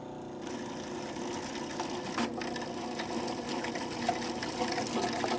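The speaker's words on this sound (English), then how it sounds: "So now that I have my olive oil, let's turn the machine back on." A Cuisinart Elite 14-cup food processor runs with a steady whirring motor drone, with olive oil being added through the small feed tube. A few faint clicks sit on top of the constant hum.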